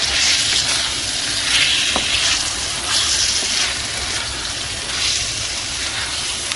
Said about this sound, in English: Now we'll add spring onions and green peppers, and we'll mix it really well.